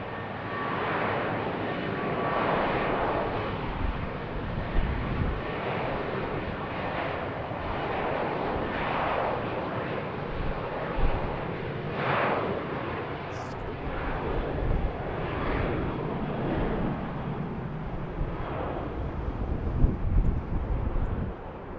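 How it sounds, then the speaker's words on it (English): Airliner departing BWI airport, a steady broad engine roar filling the whole stretch with slow swells in intensity, heard under intermittent speech and radio chatter. "And we have our next departure going on"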